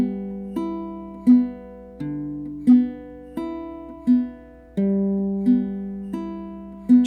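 Eight fingerpicked notes on a baritone ukulele, the thumb plucking the third (G) string in an even rolling pattern, each note ringing and decaying, close and clear with no talking.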